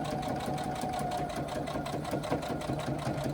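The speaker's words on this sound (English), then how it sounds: "I'm going to keep sewing down around the edge" Sewing machine running a steady, fast stitch around the edge of a small fabric pouch, a continuous close mechanical whir with a rapid even rhythm and no talking.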